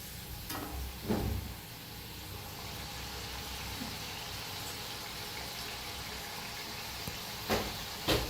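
Mung dal chakli frying in hot oil, a steady, close, even sizzle throughout with a few brief clinks and stirring touches.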